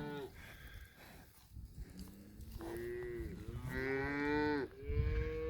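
Several cows moo close by, with overlapping low drawn-out calls rising in strength and repeating over a few seconds against a background of farm noise.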